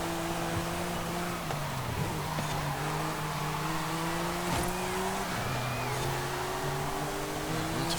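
Porsche #70 Motorsport 935 race car in Forza Horizon 5, its engine droning steadily with pitch shifts through gear changes, loud and continuous throughout with no talking.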